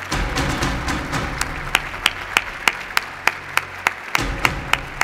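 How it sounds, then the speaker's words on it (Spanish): Audience applause at an awards gala, a steady wash of many hands clapping with a few sharper, louder claps standing out near the end. "Un fuerte aplauso"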